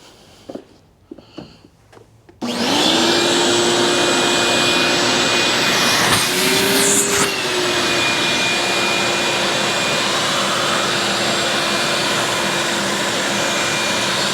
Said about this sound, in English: So we're going to vacuum all this stuff up and see how it turned out.